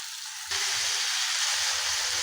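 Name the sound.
bitter gourd with small shrimp frying and being stirred in pan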